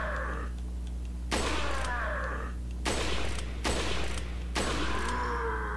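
Gunfire from the video game Resident Evil 4: several loud, sharp shot bursts separated by short gaps, ringing over a steady low game hum, with no talking.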